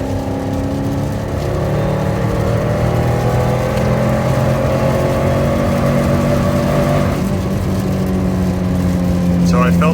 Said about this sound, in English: I'm recording just to capture what's happening near redline, where it's sputtering a little bit.